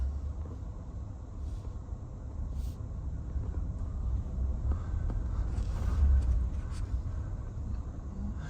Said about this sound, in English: Well, here, start driving. Let's see how the rear of this thing feels.